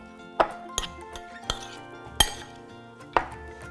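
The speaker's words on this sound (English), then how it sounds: "Give this a lovely mix up" Orzo salad being mixed in a bowl after the dressing goes in, with several sharp clinks and knocks of a utensil against the bowl spaced irregularly over soft stirring, close by with no talking.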